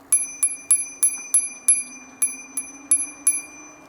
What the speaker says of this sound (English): Hope I'm not being too obnoxious with that bell. I just want them to know I'm coming.